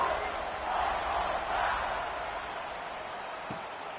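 A stadium crowd in the College Football 26 video game buzzing after a score, a broad steady roar at moderate volume that swells slightly and then settles.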